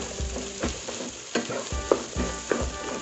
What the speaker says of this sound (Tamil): பீன்ஸ், சவ், அப்புறம் முருங்கைக்காய். இது எல்லாத்தையும் நல்லா வதக்கிக்கலாம்.